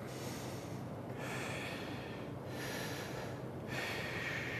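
Breathing during a respirator fit test, with breaths drawn in and pushed out in a steady rhythm through a half or full face mask, close and moderately loud with a muffled, hissing quality.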